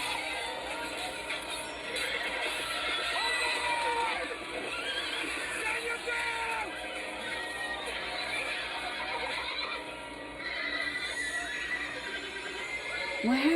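Horses in a House of the Dragon battle scene: repeated shrill neighs and whinnies over a churning bed of galloping hooves and commotion, loud and sustained throughout.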